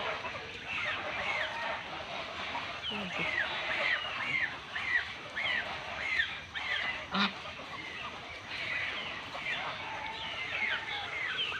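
Ducks honk repeatedly in a busy, faint chorus, with faint voices in the background.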